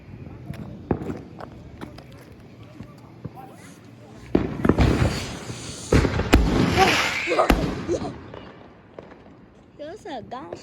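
July 4 fireworks going off outdoors, scattered crackles and pops building into a dense, loud burst of booms and fizzing crackle, then fading, with people talking and calling out throughout.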